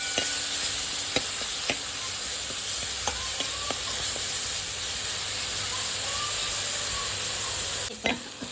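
Green chillies roast in a pan for a buttermilk kadhi with ghee tempering, giving a steady close sizzle and hiss broken by occasional clicks and scrapes of stirring.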